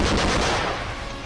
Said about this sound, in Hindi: यूक्रेन के सैनिकों ने बाखमुत की ऊंचाई वाली जगहों पर कब्जा जमा लिया है और वहीं से फायरिंग की